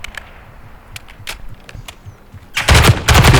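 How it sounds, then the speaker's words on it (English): In a video game, gunfire hits bots as a series of sharp single shots spaced irregularly. It then breaks into a loud, sustained burst of rapid automatic fire near the end, and no one talks over it. "You shoot, they come sometimes."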